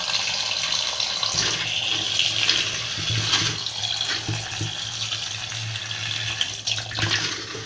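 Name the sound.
water being added to tomato mixture in blender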